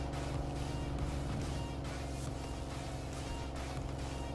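A car engine drones steadily and loud in PUBG Mobile on the Erangel map, with a continuous motor hum and no gaps throughout.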